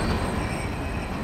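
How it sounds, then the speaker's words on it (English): An empty northbound CSX Q702 trash freight train rolls past as a continuous loud rumble of railcars on the tracks, with no voices. "that was the northbound Q702 empty trash train"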